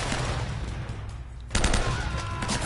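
Gunfire in the video game Uncharted, a dense burst of rapid automatic shots, then a louder volley of crackling fire, close and intense.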